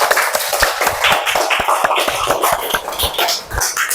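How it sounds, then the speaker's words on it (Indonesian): A classroom group claps together after a lesson game, sharp individual hand claps landing in a quick, uneven rhythm, close and fairly loud, with a few taps and shuffles between them. "Tepuk tangan untuk kita semua dulu"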